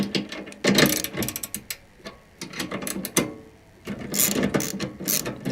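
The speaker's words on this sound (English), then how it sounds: "we just want to remove that nylock nut." A ratchet spanner clicks in rapid bursts while removing a nylock nut during assembly of a Cobra Fortis turf rake, close and crisp, with short pauses between strokes.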